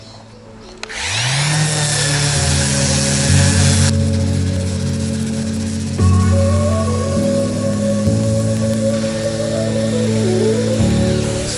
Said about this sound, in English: Sand it nicely all the way down to the beautiful timber.